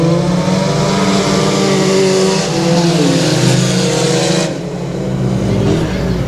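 Six race cars accelerating off turn four at the start of a six-lap heat race at Texarkana 67 Speedway, a loud layered engine roar with shifting revving tones that dips slightly near the end.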